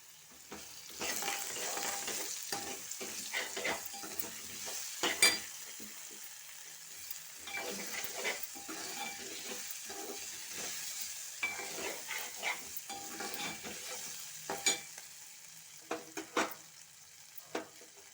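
Baby corn is stir-fried with ginger-garlic paste in a pan, a steady sizzle punctuated by repeated spatula scrapes and metallic taps against the pan, close and clear with no talking.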